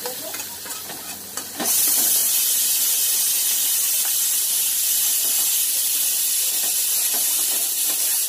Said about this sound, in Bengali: প্রেশার কুকারে সিটি দিচ্ছে